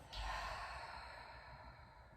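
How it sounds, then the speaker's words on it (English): A single quiet breath is pushed out through the mouth during a yoga breathing exercise, a soft airy exhale that fades gradually. "And a clearing breath out your mouth."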